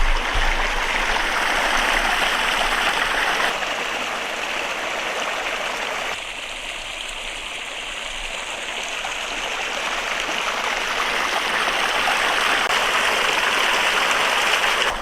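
A clear mountain stream in Idaho rushes beside a campsite, a steady, full broadband gush of flowing water close by that dips only slightly midway, with no voices.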